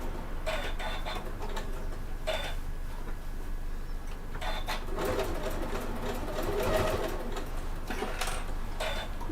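A sewing machine stitches a convertible bag in short intermittent bursts of rapid ticking, with a steady low background hum between runs and no talking.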